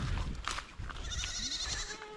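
A baby goat bleating loudly and close in a wavering cry while the family goats are herded, with other farm noise around it.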